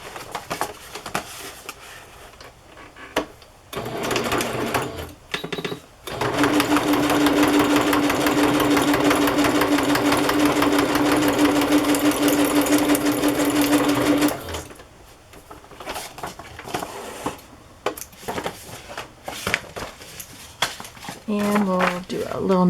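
Sewing machine stitches a playing card onto a journal made from a 1948 children's book, a steady rapid mechanical whir running for about eight seconds between quieter handling clicks and rustles.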